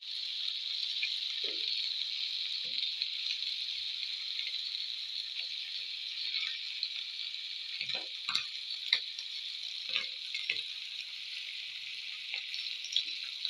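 Coconut oil sizzles on a hot dosa griddle stone in a steady, hissing fry that holds throughout. Small ticks and light clinks of utensils sound scattered over it, louder toward the end.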